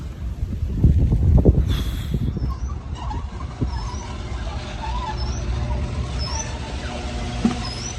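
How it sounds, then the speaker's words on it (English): Strong wind roars and buffets outdoors, loudest early on, with faint chirping birds in the background. "It is windy AF out right now."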